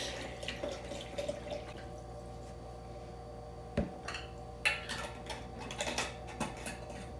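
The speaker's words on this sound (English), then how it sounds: "I'm going to pour it first into the pasta sauce jar and then give that a shake." Liquid is poured into a glass pasta sauce jar and shaken, giving soft trickling and dripping followed by clinking, sloshing bursts in a quiet kitchen with a low background hum.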